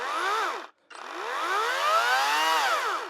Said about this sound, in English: Now, when I use it and I go ahead and fire it up,